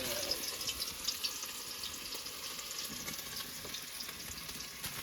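Fish frying in a pan in a country kitchen, a steady soft crackling sizzle with faint watery hiss running throughout, no talk.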